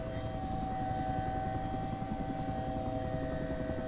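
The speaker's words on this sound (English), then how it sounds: "If you still like to fly helicopters in P3d" A helicopter in a flight simulator game drones steadily with a constant rotor hum and whine, holding at an even level throughout with no other sounds.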